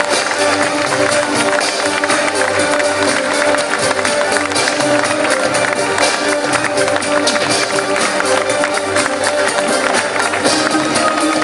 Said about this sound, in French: Je vous invite donc à les raccompagner avec de chaleureux applaudissements.